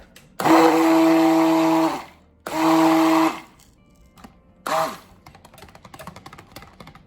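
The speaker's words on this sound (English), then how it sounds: "Now I'm done stick blending" A stick blender whirs through soap batter in two steady bursts of about a second and a half each, then a shorter third burst, with clatter and light handling noise between.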